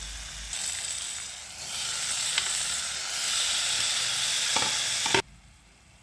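Ginger garlic paste sizzles and hisses in a hot pan while being stirred, for agalakai palya, a close steady frying sound with scraping strokes that cuts off abruptly near the end.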